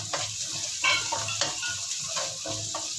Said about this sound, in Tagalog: Dito ko rin siya ginisa sa pinag-tuhan ng ating pata.